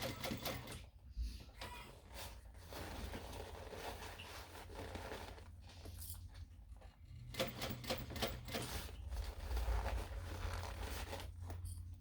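A sewing machine stitches waterproof canvas for a small backpack in rapid clattering runs, stopping and restarting every few seconds as the fabric is shifted around a curve, close and clear.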